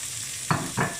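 Two short bursts of sizzling and stirring as chicken hits hot oil in a wok for pad see ew, close and brief.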